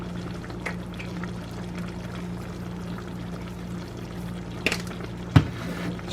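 About a cup of water pours steadily into a cooking pan of homemade hamburger helper, a continuous close splashing stream with a low hum underneath and a couple of sharp knocks near the end.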